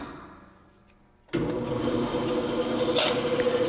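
After a quiet moment, a power saw starts abruptly and runs with a steady, loud buzzing whine as it cuts a wooden handle peg, continuing alone to the end.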